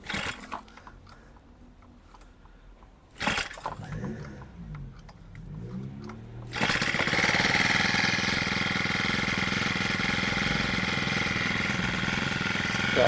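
A Procraft T5600 four-stroke brush cutter sputters through pull-start attempts, then catches and settles into a loud, steady idle that carries on to the end, close to the listener.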